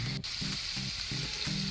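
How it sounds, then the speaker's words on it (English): Chicken pieces deep frying in a pot of hot oil, a dense, steady close sizzle and crackle with a faint rhythmic low thumping underneath, heard alone. "now we put all the pieces in this pot to fry"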